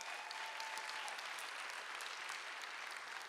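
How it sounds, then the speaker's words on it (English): Audience applause for event sponsors at an Ignite High Desert gathering, a steady, dense wash of many hands clapping continuously at moderate distance with no talk over it. "Let's give them a round of applause"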